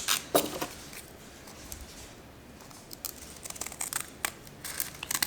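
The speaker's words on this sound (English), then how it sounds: "We just cut a couple of strips of sandpaper and fold it over to create a circle" Scissors snip through strips of sandpaper in short, crisp cuts, scattered close bursts with quieter gaps, in a workshop while regripping a Ping G25 driver.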